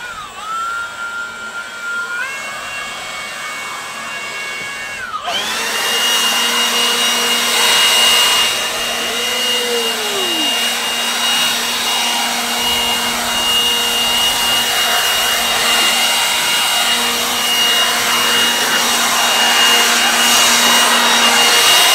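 A leaf blower clearing debris off a yard starts up with a rising whine, then settles into a steady, loud, close-up roar that continues without a break.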